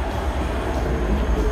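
A nearly empty tram rides through Prague with a loud interior rumble, steady low drone and rolling wheel noise close by, and no one talking.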